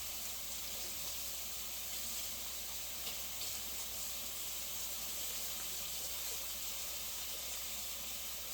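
A pot lid is rinsed under a running kitchen tap, giving a steady, fairly quiet hiss of flowing water without voices.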